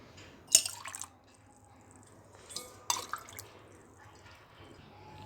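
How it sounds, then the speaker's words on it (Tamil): Vegetable soup for baby food is poured into a small glass, giving soft, faint liquid splashes and a few sharp drips and clinks in a quiet kitchen. "இப்போ வந்து சூப் வந்து ஓரளவுக்கு ஒரு டம்ளரில் எடுத்துக்கலாம்"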